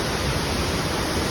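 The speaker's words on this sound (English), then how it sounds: "This is the largest man-made waterfall in the world, created by Romans thousands of years ago." A large man-made waterfall in Italy, built by the Romans, roars as a steady, dense broadband rush of falling water, constant and loud with no pauses or voices.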